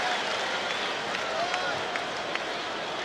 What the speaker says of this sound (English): And the crowd cheers